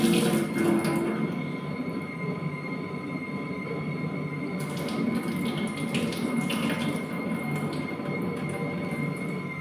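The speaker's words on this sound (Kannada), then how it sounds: "ಅದಕ್ಕೆ ಒಂದೆರಡು ಸಲ ವಾಶ್ ಮಾಡಿ ಇದನ್ನು ಸ್ಟ್ರೈನ್ ಮಾಡುವ ನಾವು" Close, steady swishing and running of water as flattened rice (poha) is washed in a bowl, a continuous wet wash with no voices.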